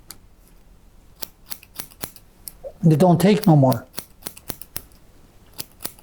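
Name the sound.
barber shears cutting hair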